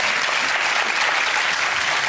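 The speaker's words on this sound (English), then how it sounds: "Give him a round of applause." A TV cooking-show studio audience claps enthusiastically, a dense steady wash of applause throughout.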